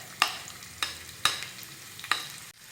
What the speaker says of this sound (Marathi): आता हा कांदा हलक्या सोनेरी रंगावर भाजून घेऊयात